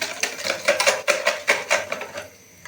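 A spoon clinks and scrapes in a bowl while pizza dough ingredients, including half a teaspoon of salt and oregano, are mixed. Quick rhythmic strokes sound close by, then slow and fade toward the end.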